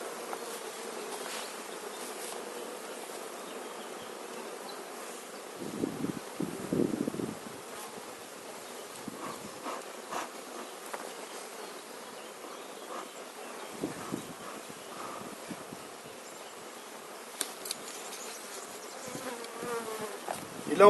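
A dense, steady hum of many honeybees buzzing close by at an open hive in spring, with occasional individual bees droning past over a quiet outdoor background.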